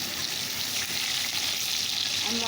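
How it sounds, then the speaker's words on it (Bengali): Turmeric-coated pointed gourd (potol) pieces frying in hot oil make a dense, loud, continuous sizzle, close and steady throughout with no voices. "চলো এগুলোকে ভেজে নিই"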